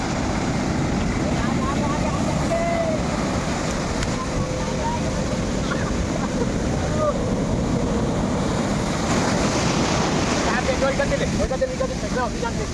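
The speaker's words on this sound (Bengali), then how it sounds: "খুব ঢেউ, এত বড় বড় ঢেউ আসছে," Big ocean waves roll in at Puri beach, a constant heavy roar of surf mixed with gusty wind buffeting the microphone, with faint voices in the background.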